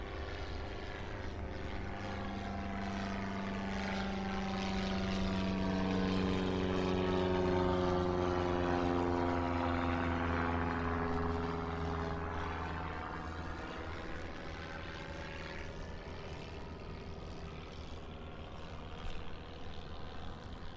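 A propeller airplane flies over a lake, its droning engine swelling as it passes close overhead and then fading slowly as it moves off, heard alone.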